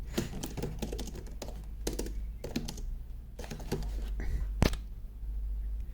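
Rapid, uneven clatter of typing on an Acer TravelMate B laptop keyboard, close by, with bursts of keystrokes and a few heavier taps over a low background hum.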